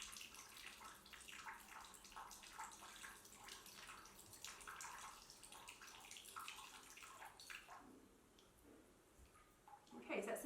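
Saline water from a neti pot trickles and splashes out through a nostril into a bowl, a faint, continuous wet running sound with small irregular splashes and a louder burst near the end.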